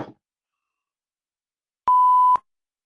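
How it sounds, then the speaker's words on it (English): A single electronic buzzer sounds once, a steady mid-pitched tone lasting about half a second after a stretch of silence. "And I heard the buzzer go off, so Yana, I'm good."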